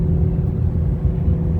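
Ford Mustang GT350R engine while driving, a steady low rumble and drone heard from inside the car, fairly loud and continuous with no talking.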